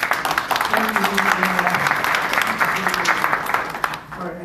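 Steady applause from a modest crowd at a radio club's monthly meeting, clapping for a member named Heath, dense and continuous for several seconds with voices murmuring underneath.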